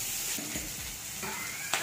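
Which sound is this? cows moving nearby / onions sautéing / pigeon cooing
onions sautéing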